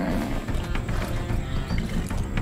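A horse gallops in Far Cry 6 with rapid, continuous clip-clop hoofbeats close up over a dense rumbling game background, with no talking heard.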